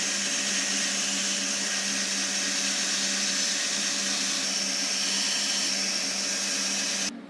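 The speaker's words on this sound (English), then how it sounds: "Now you could cut this out either on a bandsaw, as I'm about to do, or with a jigsaw." A bandsaw cuts a piece of wood for a tray, a loud steady whirring buzz with a constant tone running close for several seconds before stopping abruptly at the end.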